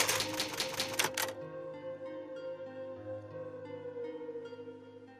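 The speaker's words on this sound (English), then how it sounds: "It's an old typewriter. You can save your progress." An old typewriter used as the save point in Resident Evil HD Remaster clatters in a quick burst of keystrokes, then a sustained musical tone follows alone.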